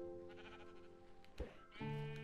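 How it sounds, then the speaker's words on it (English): Sheep bleating in the Minecraft video game, two drawn-out, wavering bleats close by, the second louder and sustained, over a soft game background with no talk. "He's such a noisy sheep."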